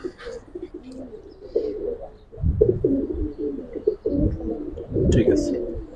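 Old-breed Giribaz pigeons coo in a loft, a steady run of soft, low throaty calls close by, with flutters and shuffling between them.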